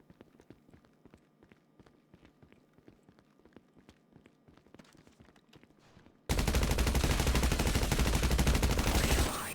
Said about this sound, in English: And this gun sounds great.